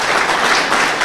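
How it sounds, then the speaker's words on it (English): Audience at a Newark History Society anniversary celebration applauding an honoree, a dense, steady burst of many hands clapping for about a second. "We can clap for Warren."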